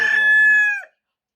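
A rooster crows once, loud and close, a single drawn-out call that ends abruptly and leaves silence, with no talking.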